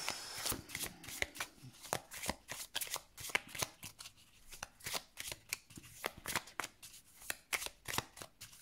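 Tarot cards being shuffled and cut by hand, rapid riffling and flicking bursts in a quick uneven rhythm, close and fairly soft, with no talking over them.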